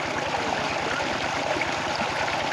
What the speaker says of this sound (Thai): น้ำแรงนะครับนะน้ำแรงมาก